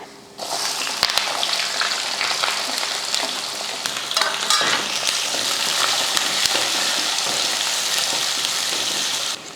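Onion, green chilies and curry leaves hit hot oil with lentils and cashews, bursting into a loud, steady crackling sizzle that holds for several seconds, with a few scraping stirs of the spoon against the pan.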